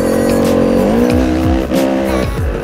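A motocross motorcycle runs in third gear on a private dirt track. The engine drones loud and close, its pitch sliding as the throttle opens and drops back with repeated surges.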